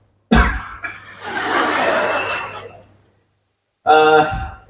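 One sharp, loud cough bursts out during a university talk, followed by a breathy stretch like a chuckle, then another short burst after a pause.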